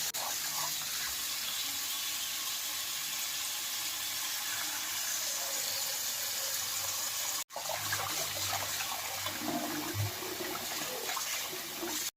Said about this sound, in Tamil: இன்னொரு டைம் தண்ணி ஊற்றி க்ளீன் பண்ணி எடுத்துக்கலாம்